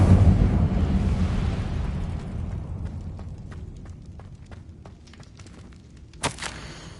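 An Incendio fire spell effect in a wizard game opens with a loud whooshing burst of flame that fades into a crackling, popping burn, followed by a sharp bright crack near the end.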